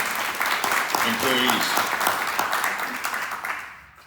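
Audience applause at a gathering fills the space in a steady wash of clapping, with a voice talking over it before the clapping fades out near the end.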